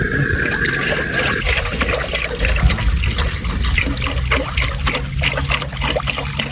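Water trickles and pours steadily into a cooking pot to be heated while making sinigang na bagnet, a continuous splashing fill lasting throughout at close range with no talk.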